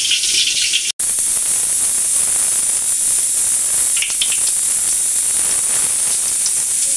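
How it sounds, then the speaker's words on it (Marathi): Whole spices such as cardamom, mace, cinnamon, cloves, cumin and peppercorns hit hot oil and ghee, giving a steady loud sizzling hiss after a short drop, close and continuous, with no speaking. "आता हा सगळा खडा मसाला मी फोडणी देऊन घेणार आहे"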